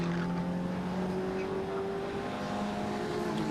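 Club race cars accelerate around Cadwell Park circuit, engines droning in rising tones from a moderate distance over a constant broadband roar.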